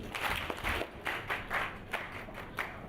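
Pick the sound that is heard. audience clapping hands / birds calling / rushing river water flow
audience clapping hands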